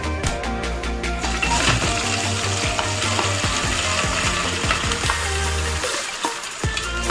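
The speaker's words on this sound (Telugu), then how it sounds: "పెద్ద ఉల్లిపాయలు, పచ్చిమిరపకాయలు వేసేసుకోండి ఫ్రెండ్స్" Sliced large onions and green chillies frying in hot oil for a chicken curry, a steady close sizzle and crackle running throughout over a constant background with faint stirring clinks.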